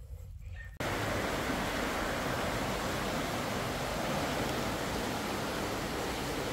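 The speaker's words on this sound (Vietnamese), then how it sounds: "Suối." A forest stream flowing, its steady loud rushing wash starting abruptly after a brief quieter moment and continuing unbroken, with no voices over it.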